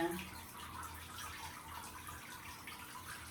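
A pumped three-tier fountain that doubles as a bird bath gives off a steady, soft trickle and splash of running water, faint and continuous, with no speech.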